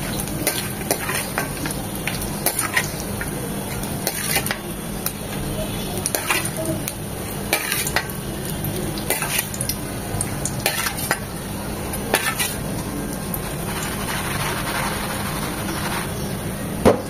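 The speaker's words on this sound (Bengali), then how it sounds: "বাদামটাকে মিডিয়াম এবং লো হিটের মাঝামাঝি রেখে ভাজতে হবে। এরকম পটপট করে শব্দ হবে" Peanuts fry over medium-low heat in a pan, crackling and popping steadily while a utensil stirs and scrapes through them at close range. No one talks.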